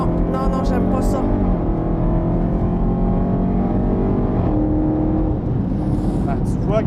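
A Hellcat car's engine roars loudly and steadily, its pitch rising and falling as it slows and then speeds up again, heard from inside the car, with a voice talking over it.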